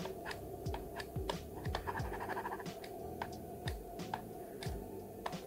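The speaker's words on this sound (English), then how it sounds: "a note about the sound of the stylus, and more precisely this little click at the end of an accent" A Huion Inspiroy H610X tablet stylus scratches and taps across the surface, giving a series of faint, sharp clicks and short scrapes spread irregularly over several seconds in a quiet room.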